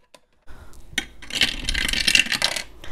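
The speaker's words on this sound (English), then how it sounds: "So let's just roll the dice. Oh no, it fell." Dice tumbling and clattering across a hard surface, a run of close rattling clicks and skitters after one sharp knock, continuing for a couple of seconds with no voices.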